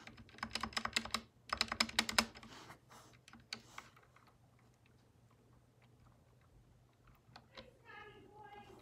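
Fast typing on an SK61 60 percent mechanical keyboard, dense bursts of clacky keystrokes close up, then sparser individual key presses with brief soft talk near the end.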